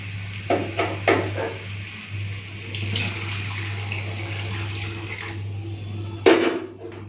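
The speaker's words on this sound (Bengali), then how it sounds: "এখানে গরম জলটা বসিয়ে রেখেছিলাম ঢেলে দিই" Hot water poured into a pot of mutton curry with papaya and potato, a steady splashing rush over a low hum, with a few brief clinks near the start and a sharper clatter near the end.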